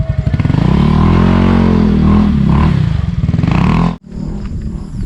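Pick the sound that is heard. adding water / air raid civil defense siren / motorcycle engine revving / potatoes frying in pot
motorcycle engine revving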